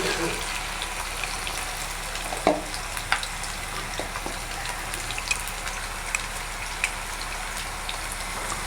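Potatoes fry in oil in a pan with a soft, even sizzle, punctuated by a few light taps and clinks of a utensil, steady and fairly quiet throughout.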